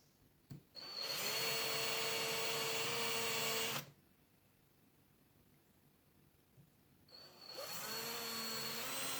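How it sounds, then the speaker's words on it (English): A cone drill bores out a rivet on an old English cutaway lever lock, two sustained whining bursts of the power tool separated by a quiet pause, close and loud. "the first thing to do is to drill out the rivet using a cone drill"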